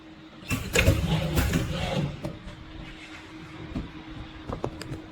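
A screen printing machine printing paper cups gives a cluster of close mechanical clunks and rattles, then quieter running with sparse sharp clicks.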